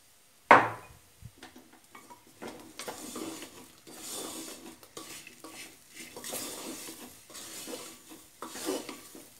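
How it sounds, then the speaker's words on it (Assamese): Lentils (dal) stirred in hot oil in a pan with salt and turmeric, a sharp clatter at the start giving way to steady scraping, light sizzle and clinks of a spoon against metal, close and continuous. "তেল ওলাই যোৱাকে খুব ধুনীয়াকৈ ফ্ৰাই কৰা হল"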